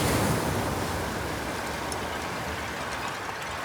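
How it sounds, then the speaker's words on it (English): Ocean waves recorded outdoors as a natural sound produce a broad, steady roar of surf that swells at first and then settles to a softer wash, with no voices. "the waves"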